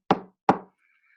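Two firm knocks bang on a palace gate, evenly spaced and close, each a sharp hit with a short decay, followed by a faint thin ringing tone.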